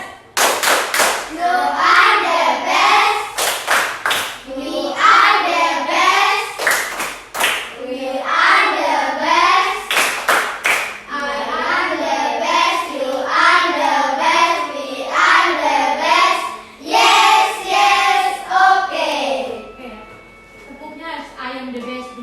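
A classroom of children performs the 'tepuk the best' chant, loud rhythmic bursts of unison hand clapping alternating with shouted group chanting, repeated several times up close.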